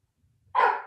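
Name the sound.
dogs barking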